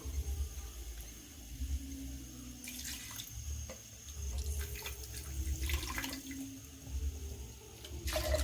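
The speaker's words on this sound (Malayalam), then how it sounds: "ഇനി ജാറൊക്കെ ഒന്ന് കഴുകി ഒഴിക്കാം" Water runs and splashes in short, intermittent bursts as a blender jar is rinsed into okra curry, fairly quiet, with no voices.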